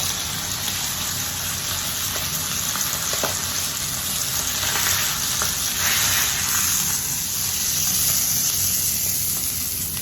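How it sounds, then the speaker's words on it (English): A steak sizzles steadily in a cast iron pan with butter, a loud, continuous frying hiss close by with faint scraping and no voices. "We're going to put some of that good butter over it."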